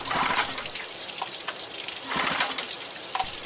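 Heavy rain pours steadily with a dense, hissing wash, swelling louder in two gusty bursts, close and unbroken with no talk.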